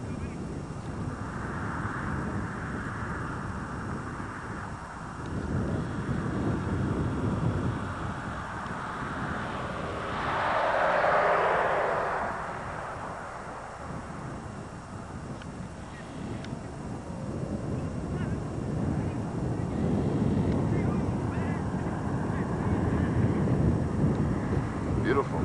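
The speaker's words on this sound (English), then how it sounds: "nice if the wind wasn't blowing" Strong wind gusts buffet the microphone outdoors at a memorial park in Limestone, Maine, in a steady rumbling roar that swells to a louder burst midway, with faint talk beneath.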